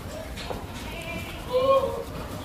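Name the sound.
goats bleating at a goat farm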